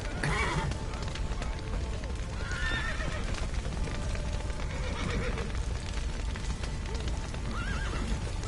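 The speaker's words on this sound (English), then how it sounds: "That old horse is out." Horse neighing in the video game The Witcher 3: Wild Hunt, a clear whinny rising near the start, then another around the three-second mark, with hoof clip-clops and background ambience throughout.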